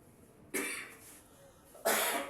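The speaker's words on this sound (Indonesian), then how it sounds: "Udah batuk 4 hari gue nih." Two sharp, close coughs sound about a second apart over a quiet background.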